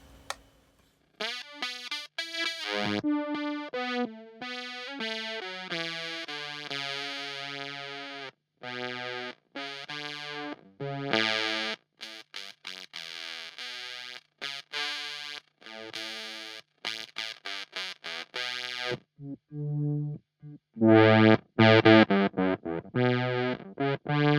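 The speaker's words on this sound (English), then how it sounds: "And this is now a state variable bandpass filter." A Meris Enzo guitar synth run through a state variable bandpass filter plays a busy, loud sequence of bright, buzzy synth notes with effects, some short and staccato, others sustained, with no talking.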